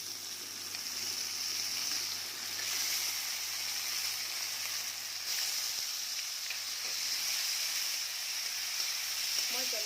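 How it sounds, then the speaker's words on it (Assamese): Tomatoes hitting hot oil for a fish curry, a dense continuous sizzle and hiss that holds steady and close, with faint stirring underneath. "এতিয়া মই বিলাহীখিনি ঢালি দিম।"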